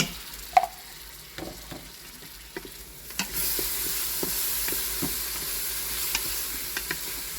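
Ginger garlic paste cooks in ghee for haleem, starting as quiet stirring taps and scrapes, then a soft, steady sizzle rises partway through, punctuated by light spoon clicks.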